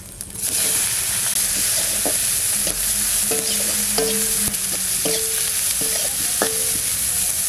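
Bay leaf, dried red chilli, whole garam masala, cumin and chopped onion fry in hot oil with a steady close sizzle, while a spoon scrapes and stirs the pan in repeated light knocks.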